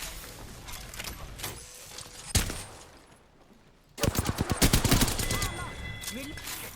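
Gunfire in the Apex Legends battle royale game: a single sharp shot, a brief lull, then a rapid burst of automatic fire that rattles loudly and continuously to the end.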